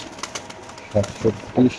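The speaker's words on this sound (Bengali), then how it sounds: "একটা মাদি কবুতর মাশাআল্লাহ দেখাচ্ছি" A female BRPFR racer pigeon coos three times in low, throaty bursts, close by, after a few faint clicks; background murmur underneath.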